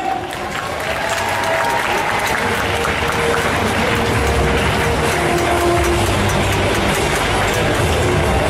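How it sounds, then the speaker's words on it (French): Sustained, dense applause from a large indoor audience at a cosplay contest, loud and steady throughout with crowd noise mixed in. "Et on applaudit"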